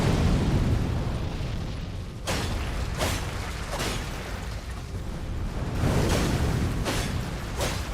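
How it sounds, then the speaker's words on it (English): In the video game Elden Ring, a close-range explosion bursts over a dense, rumbling low roar, followed by a series of sharp, repeated pops and whooshing blasts spaced about a second apart. "Because there's like a close range explosion."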